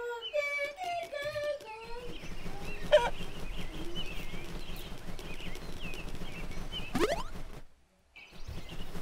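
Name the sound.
chicken clucking in a Peppa Pig video game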